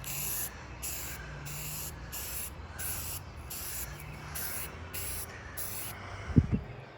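An aerosol can sprays paint onto a car seat part for a GTO in short, evenly spaced hissing bursts, close and fairly quiet, ending with a brief knock or clunk.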